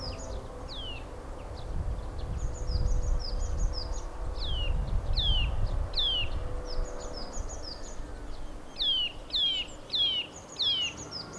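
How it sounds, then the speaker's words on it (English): A Eurasian nuthatch calls in Casa de Campo park, Madrid: repeated sharp, high whistled notes in loose series, fairly close, over a low steady background rumble of the park. "Here we have a Eurasian nuthatch"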